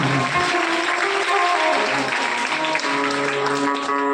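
An audience at a Bhagwat katha gathering claps together in steady, sustained rhythmic applause, loud and continuous with a tonal musical drone underneath.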